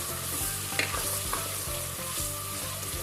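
Green chillies stirred into potato curry frying in a pan: a steady close sizzle with repeated soft scraping strokes of a spoon in a regular rhythm, and no voices.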